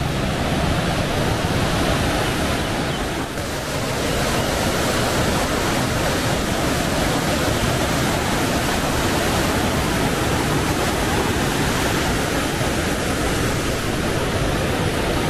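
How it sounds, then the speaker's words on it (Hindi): Clean white water of the Sharda River rushes past a forest spot near Sharda Sagar Dam in Pilibhit Tiger Reserve, making a steady, loud, close broadband roar that holds unbroken throughout with no voices. "यहाँ से आप देखिए शारदा रिवर का फ्लो बिल्कुल वाइट पानी है"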